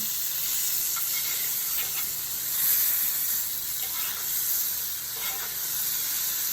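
Butter sizzling hard in a hot pan with jerk-seasoned lamb leg steak, thyme, rosemary and garlic: a loud, dense, continuous hiss that swells and eases gently, close up and with no talking.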